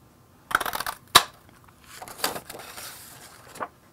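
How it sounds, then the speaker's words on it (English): A daisy-shaped craft punch pressed through paper to cut out flower shapes, giving sharp snapping clicks and crunches, a few distinct punches with soft handling rustle between them, close and fairly quiet with no talking. "we're gonna take our daisy punch. We're gonna turn it over, so when we put our punch over our paper, it's super easy to line up and just punch that out."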